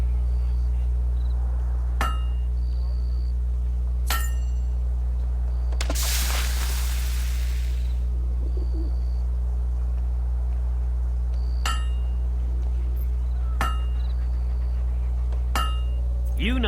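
Hammer strikes in the video game Fable 2, a series of sharp metallic clinks spaced a couple of seconds apart over a steady low hum, with a burst of broader noise in the middle.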